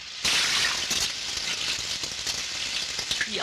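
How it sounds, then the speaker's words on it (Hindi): Rushing, splashing water in a film scene, a steady broadband wash that starts abruptly and runs continuously with small surges, fairly loud and with no talk over it. "ये आवाज कैसी? पानी की आवाज होगी।"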